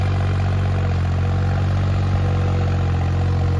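A farm tractor engine runs at a steady idle, a loud, continuous low throb with an even mechanical clatter and no pauses, heard close up.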